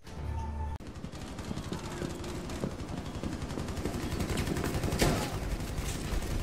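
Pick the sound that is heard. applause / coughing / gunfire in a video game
gunfire in a video game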